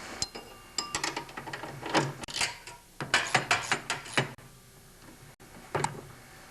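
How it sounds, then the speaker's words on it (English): A nut is tightened on the bolt of an MTD snowblower's loose handlebar, giving quick ratcheting clicks in close bursts with short pauses between them. "So I'm going to tighten up the first nut before I put the second on."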